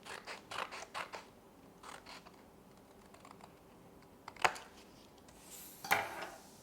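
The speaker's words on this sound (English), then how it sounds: "just take your scissors and cut off any bit of the plate that is sticking out of the bottom" Scissors snip through a paper plate during an Easter craft, a series of quick crisp cuts early on followed by two sharper isolated snips, close and fairly quiet with no talking.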